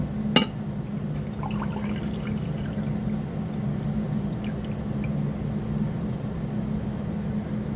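About 350 millilitres of water poured from a graduated cylinder, a steady continuous pouring rush after a sharp clink at the start, close and without talk.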